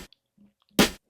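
A single sharp snare drum sample from a drum break in Reason rings out bright and crisp, with faint small clicks before it.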